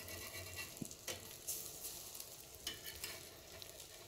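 Onion pakoras shallow-fry in oil on a pan with a soft, steady sizzle, broken by occasional crackles and faint spatula scrapes, and no talking.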